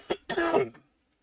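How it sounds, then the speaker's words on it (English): A single short throat-clearing cough from a man who is sick, close and fairly loud, a brief burst followed by a longer rasping clear, then silence. "Sorry, I'm going to cough."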